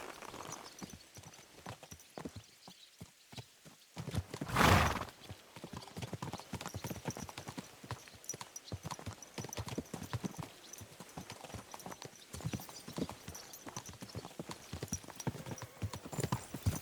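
Horses' hooves clip-clop steadily as a mounted company rides out in Kingdom Come Deliverance 2, a dense rhythmic trot with a loud burst early on and a brief whinny, continuing throughout.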